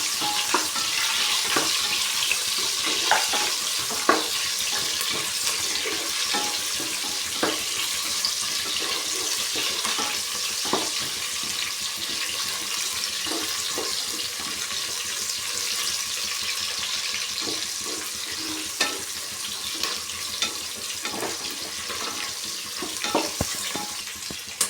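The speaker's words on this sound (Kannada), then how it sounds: "ಈರುಳ್ಳಿ ಹಸಿ ಸ್ಮೆಲ್ ಹೋಗೋವರೆಗೂ ಫ್ರೈ ಮಾಡ್ಕೋಬೇಕು." Onions frying in a pan for Mysore mallige pulao, a continuous close sizzle with frequent scraping stirs and light clinks of the spoon against the pan, no talking.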